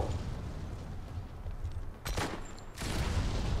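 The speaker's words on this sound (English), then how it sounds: "that was an accidental shot there" Gunfire in the Modern Combat 5: Blackout shooter game, a dense rattling burst that breaks off, then two sharp loud shots ring out close and alone.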